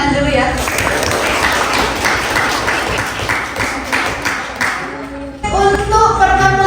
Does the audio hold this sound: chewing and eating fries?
no